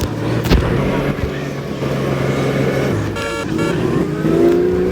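A vehicle drives along a route in a Roblox game, giving a continuous close engine drone with shifting pitch and a short horn-like toot partway through.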